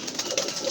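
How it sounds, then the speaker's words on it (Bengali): Two big-sized male pigeons coo nearby in a short, soft burst of low throaty sound, without voices. "হ্যাঁ দুইটাই কিন্তু অনেক ভালো ডাকে ভাই।"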